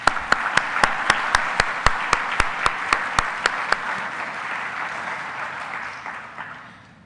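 An audience at a robotics conference awards session applauds, a moderate wash of clapping over several seconds that fades out toward the end, with a regular sharp ticking running through the first half.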